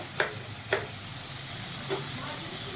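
Tomato chutney being stirred in a pan, with a few sharp scrapes of the spoon over a steady low sizzle, close and fairly quiet.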